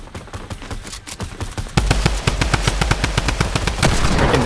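Rapid gunfire in a multiplayer shooter video game, with a dense stream of loud repeated shots that intensifies midway and continues steadily.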